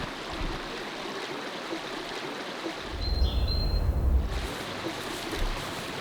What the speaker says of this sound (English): I love the rapids and the various rocks alongside the creek